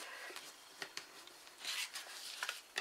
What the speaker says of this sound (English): and then fold this one this way to give it a good burnish